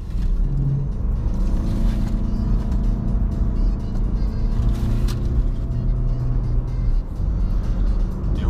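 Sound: BMW 220d Active Tourer driving in sport mode on curvy road

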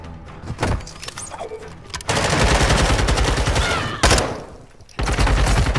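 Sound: gunfire in a multiplayer shooter video game

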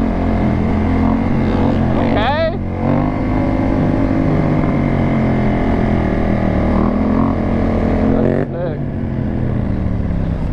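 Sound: two-stroke dirt bike engine riding past

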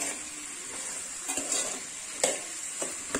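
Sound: stirring sambar dal and vegetables in pot

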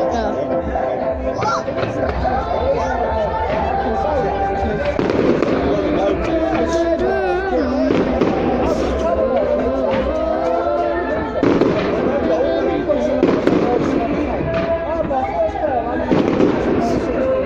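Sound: fireworks exploding at night

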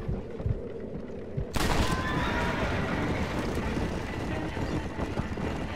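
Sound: horses neighing in the video game Red Dead Redemption

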